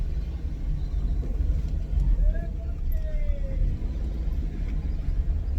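A car drives along a road in the aftermath of a cyclone, its engine and tyres making a steady low rumble throughout, with muffled voices mixed in.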